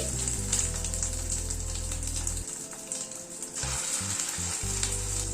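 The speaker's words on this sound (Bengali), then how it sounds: "কড়াইতে হোয়াইট অয়েল বসিয়েছি, তেলটা গরম হয়ে এসছে। এক এক করে চিকেন গুলো ছেড়ে দিচ্ছি।" Marinated chicken pieces with a light cornflour coating fry in hot white oil in a kadai, giving a loud, continuous close sizzle with a steady low hum underneath and no talking.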